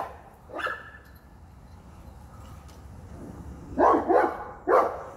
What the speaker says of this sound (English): Dogs are going crazy at this raccoon at the top of the electric pole.